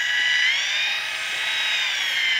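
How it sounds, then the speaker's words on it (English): A heavy-duty drill spins a mixing paddle through adhesive in a bucket, a steady high whirring drone that holds throughout, close and loud with no talking. "So you want to just use a good paddle with a good heavy-duty drill."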